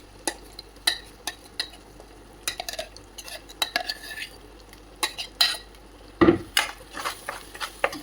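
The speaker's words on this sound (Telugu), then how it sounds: "సరిపడినంత ఆయిల్ మనం వేసుకుని నూనెలో ఈ విధంగా మగ్గించాలి" Mint leaves sautéed in oil in a pan for mint chutney, with a utensil scraping and clinking against the pan in repeated sharp strokes over a faint background sizzle.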